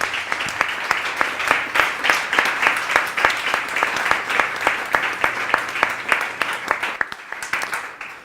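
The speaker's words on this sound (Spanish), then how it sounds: "Un aplauso, por favor." An audience claps steadily through a panel discussion marking 450 years of the Biblia del Oso. The dense, continuous applause runs for about seven seconds with sharp individual claps standing out, then fades near the end.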